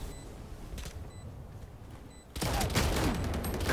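Gunfire in the video game Valorant: a faint rattle early on gives way to a sudden louder burst of rapid shots over a dense game background, with no voices.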